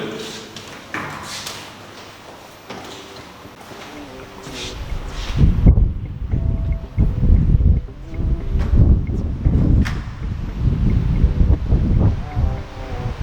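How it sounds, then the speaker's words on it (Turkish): Strong wind buffets the microphone in heavy, rumbling gusts at a seaside villa in Çandarlı, Turkey, growing louder partway through, with fainter rustling noise beneath. "Evet, çok ciddi rüzgar var."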